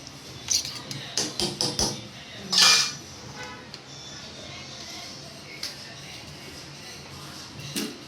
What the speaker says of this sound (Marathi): आणि आता आपण दुधी दही तिकारीला हलवून घेऊ।